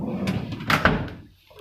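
One of the two large drawers of an anesthesia machine slides open with a dull thump and a brief rattle, close and fairly loud, followed by quiet.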